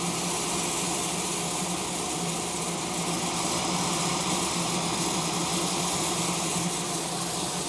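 The blower of an Aillio DUO coffee roaster runs steadily, a constant airy whir with a low mechanical hum and no change in level throughout.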